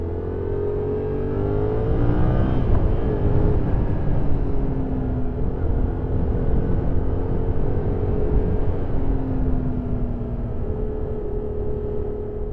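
A 2014 Yamaha MT-07 motorcycle engine hums steadily while riding, its low droning tone rising in pitch as it accelerates then settling into a smooth, fairly mild cruise with wind noise.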